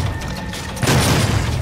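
A grenade explodes in Doom, a sudden loud burst partway through that rolls into a rumbling, crackling decay.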